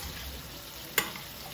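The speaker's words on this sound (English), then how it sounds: "Okay, so my fish is frying." Snapper fish frying in a pan gives a steady, close hiss of sizzling oil with one brief sharp pop partway through, no voices.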